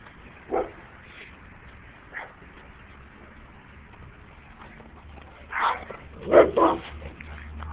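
Dogs bark at a passerby walking around the block, a few scattered distant barks followed by a closer cluster of sharp barks near the end.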